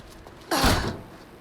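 A door in Alan Wake 2 unlocks and creaks open in the game, a single close thunk followed by a short low creak, alone and fairly quiet.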